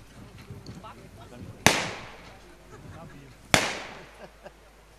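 Two sharp, loud gunshots ring out about two seconds apart during horse training for shooting reactions, each cracking hard and then fading with a long echo, over a murmur of background voices.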